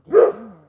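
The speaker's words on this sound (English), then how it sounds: "That's a dog up the road," A single dog bark from up the road, short and fairly strong with a falling tail, standing alone with no talk over it.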